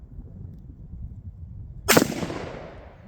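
A single loud rifle shot from an M1 Garand firing .30-06 at a steel target, a sharp blast near the two-second mark followed by a ringing, decaying tail over quiet outdoor background.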